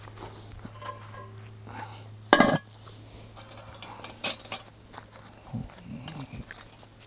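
A metal lid set onto a pot during bread making, one sharp clatter near the middle, with a few lighter knocks and kitchen handling noises around it in an otherwise quiet room.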